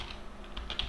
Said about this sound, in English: So the first thing you do is you type Podman